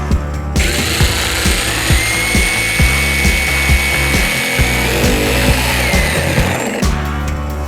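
Milwaukee M12 cordless multi tool making a plunge cut, a loud steady high-pitched oscillating buzz with faint rhythmic knocks that runs for most of the clip before cutting off abruptly near the end.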